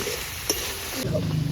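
Chicken chow mein cooking with chicken masala in a pan, sizzling and frying steadily, with a brief stir or clatter midway and a louder burst of sizzle near the end.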